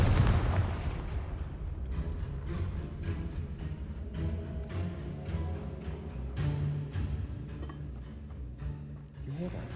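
The Confringo fire spell in Hogwarts Legacy sets off a series of booming blasts with crackling bursts. The sharp hits repeat over a loud, dense game backdrop.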